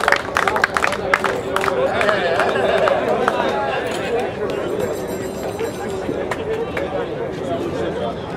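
Crowd applause at a cricket award ceremony after the Greenline Independence Cup 2018 final, a broad steady wash of clapping mixed with cheering and crowd chatter that holds for the whole stretch.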